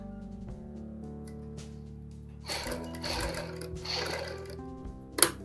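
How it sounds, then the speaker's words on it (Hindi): A sewing machine stitches the collar of a ladies' coat, starting with a low steady motor hum, then a louder, faster stitching run from midway, ending in a sharp click. "यहाँ पे हमने पक्की सिलाई लगाते हुए आगे की सिलाई कंप्लीट करनी है।"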